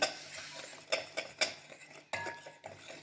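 Kabyle dish stirred in a pot: a few distinct scrapes and metallic clinks of a spoon against the pot, close and moderately loud, with faint sizzling underneath.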